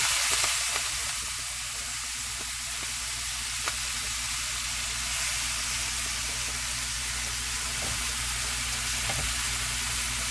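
Spinach sizzling and frying in a hot skillet with avocado oil, a steady loud hiss that holds at even strength from start to finish, with no talk over it.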